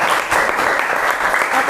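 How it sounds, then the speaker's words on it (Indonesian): A classroom of students claps hands together in a lively, continuous burst, dense and close, filling the short moment without a break. "Tepuk tangan."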